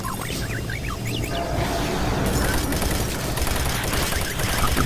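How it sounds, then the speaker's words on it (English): Submachine gun firing in Doom 3: Resurrection of Evil, a dense rapid rattle of automatic shots, loud and close, mixed with game effects and chirping sounds. "Simply just use the submachine gun."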